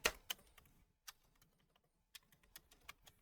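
Keys on a Commodore 64 keyboard clack as they are pressed, a few sharp clicks at the start and then scattered, uneven taps after a short pause, close and fairly quiet with no voices.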